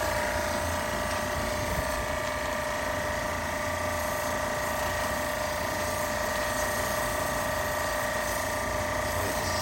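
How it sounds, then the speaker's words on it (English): An RV tank-cleaning jetter pump driven by a 1500 PSI compressor runs steadily, a constant, even mechanical hum and whir that holds at the same level throughout, with no voices. "Pump's nice and quiet, so it doesn't make a ton of noise"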